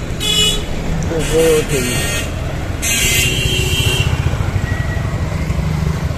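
A tuk-tuk rides along a dusty road with a steady engine drone and road rumble, while horns toot in short bursts nearby and a voice speaks briefly.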